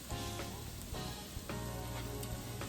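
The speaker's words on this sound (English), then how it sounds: "So now we are going to add our flour and continuously stir." Flour being stirred into melted butter in a pan to make a paste for a cheesy sauce, giving a steady close sizzle with soft scraping strokes of stirring at regular intervals.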